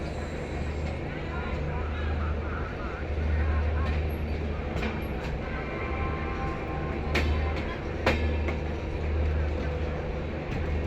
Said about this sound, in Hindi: ट्रेन अपनी मेन लाइन पे ली गई है